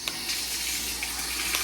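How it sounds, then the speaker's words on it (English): A garment being hand washed in water, a continuous splashing and running-water wash close by with soft sloshing throughout and no talking. "Every garment gets hand washed."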